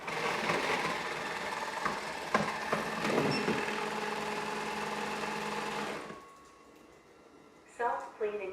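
A Narwal Freo Z Ultra robot mop station running its self-cleaning cycle gives a steady, loud mechanical whirring and churning that stops abruptly, followed by quiet and a few faint knocks.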